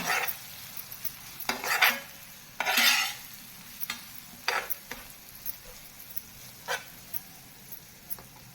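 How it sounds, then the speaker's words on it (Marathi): Spices sautéed in oil for a dal tadka, several separate bursts of sizzling and stirring that rise and fall over a quiet background, close and fairly soft, with the clink of utensils on the pot. "सर्व मसाले आपण तेलावर चांगले परतून घेऊया"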